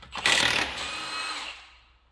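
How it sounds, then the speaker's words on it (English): A Milwaukee M18 half-inch drive cordless impact gun runs in one loud burst of whirring, then trails off while a wheel comes off a Dodge Ram during exhaust manifold repair in a garage. "The Milwaukee M18 half-inch drive impact gun."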